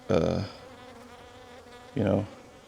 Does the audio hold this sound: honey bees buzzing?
yes